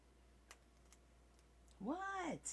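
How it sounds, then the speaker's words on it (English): A small cat gives a single tiny, rising-then-falling meow, close but quiet, after a few faint clicks in a quiet room. "He's got this little tiny meow going right now."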